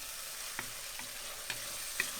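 Tomato, onion and garlic frying in a pan for pork apritada, a steady hiss of sizzling with a few soft stirring taps, close and without speech.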